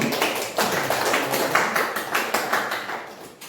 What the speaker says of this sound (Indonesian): Kita kasih aplaus untuk